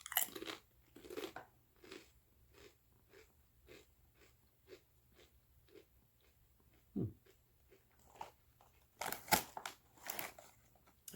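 Someone bites into and chews a squid-flavored Lay's potato chip close to the mic. Loud first crunches give way to a long run of softer, rhythmic chewing crackles, then a few more sharp crunches, with no talking.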